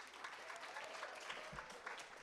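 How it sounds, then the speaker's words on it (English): Faint, distant audience applause at a poetry reading event, a steady patter of many hands clapping with no clear voices. "A big round of applause"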